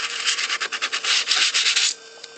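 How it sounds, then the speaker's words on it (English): A sanding block rubs briskly over painted foil-tag card in quick, rhythmic back-and-forth strokes, close and scratchy, stopping near the end. "I just rubbed over it with my sanding block"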